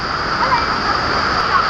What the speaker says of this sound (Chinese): 这里是一个溶洞里面的一个温泉瀑布。